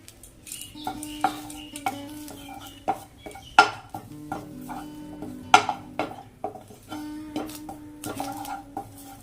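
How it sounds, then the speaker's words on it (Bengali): A spatula stirs and scrapes dry neem leaves and eggplant in a hot pan with no oil, giving irregular close clinks and scrapes at uneven intervals against quiet background. "এভাবে ধীরে ধীরে ভেজে নেব কন্টিনিউ নাড়িয়ে যেতে হবে"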